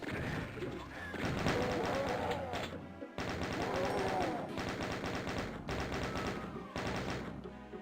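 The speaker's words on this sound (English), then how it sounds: "Now I have a machine gun." The machine gun in Doom 2 rattles in fast, loud bursts of repeated shots. Short pauses break up the firing, and a voice talks over it.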